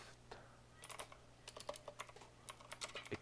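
Fingers tap away on a computer keyboard in a quiet room, giving a quick, irregular patter of soft key clicks in short bursts over a low steady hum.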